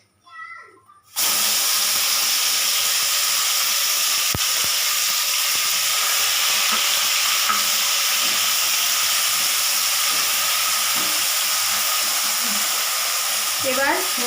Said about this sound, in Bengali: এবার মশলাটা একটু লাল লাল করে ভাজবো।